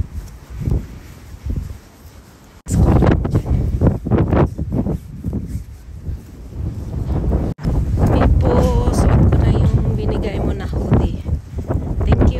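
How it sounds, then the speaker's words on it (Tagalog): Cold wind buffets an outdoor microphone in gusty, rumbling bursts that come and go, loud and close, with a person speaking intermittently underneath. "Lamig ng hangin."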